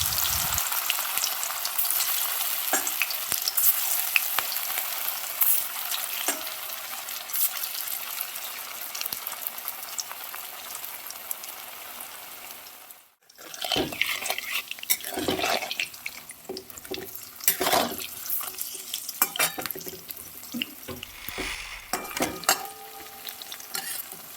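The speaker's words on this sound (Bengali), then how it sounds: "এবার হচ্ছে সোয়াবিনের যে বড়াগুলো আমি করেছি সেগুলো হচ্ছে গোল্ডেন ব্রাউন কালারে ভেজে নেব" Soybean pakoras fry in hot white oil with a steady, close sizzle that runs throughout, broken by a brief dip midway and then sharper bursts of crackling and bubbling.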